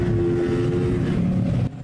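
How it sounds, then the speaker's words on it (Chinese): Modified cars and motorbikes revving hard on a city street at night, a loud continuous engine and exhaust roar with a steady drone that cuts off abruptly near the end. "排气管跟引擎声震耳欲聋。"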